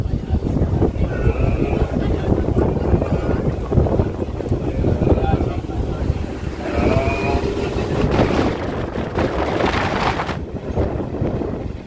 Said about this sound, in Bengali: ছেড়ে দিলে আমাদের ট্রেন ধাত্রীগ্রাম থেকে